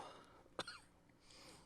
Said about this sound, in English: Coughing on the mic.